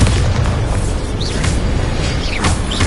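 A Bombarda blasting spell explodes in Hogwarts Legacy: loud, deep booms and bursts that follow one another through a continuous rumble, with little or no talk.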